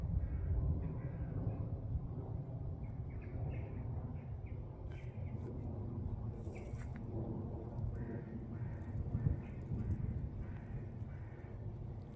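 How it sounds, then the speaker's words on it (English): Birds sing and chirp outdoors in nature, with faint scattered calls over a steady low background rumble. "I don't know how much the camera's going to pick up of all those bird sounds that have just happened"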